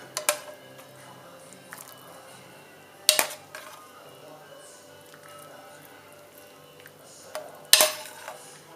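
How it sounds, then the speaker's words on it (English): Soup spooned with a ladle in a pot, a few distinct metallic clinks and wet splashes spaced apart, close and fairly clear over a quiet background. "Grab a ladle. Spoon it over and up."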